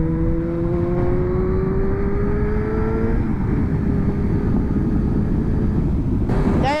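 A 125cc motorcycle overtakes on an open road, its engine note climbing steadily then dropping as it passes close by, all over constant wind and engine roar with no talking.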